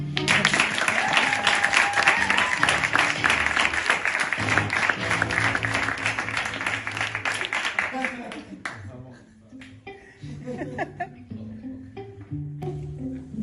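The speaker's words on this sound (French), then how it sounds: "j'aimerais bien qu'on nous applaudisse" A stand-up comedy audience claps mid-performance in a loud, dense burst of applause that fades after about eight seconds, leaving scattered claps and a performer talking.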